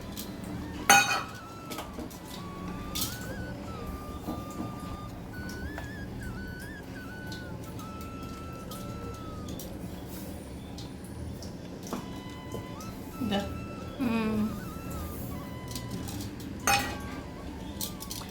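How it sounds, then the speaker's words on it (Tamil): A utensil stirs rava khichdi in a pan, giving faint scraping and clinking against the metal over a steady background, with a few brighter clinks and whistle-like tones scattered through. "சேர்த்து விடாமல் கை எடுக்காமல் கிளறணும்"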